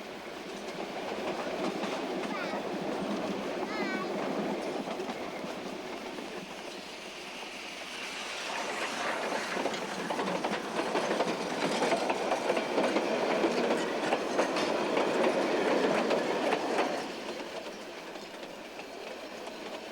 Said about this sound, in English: Coming into Silverton, the train crosses over the river and passes the old depot.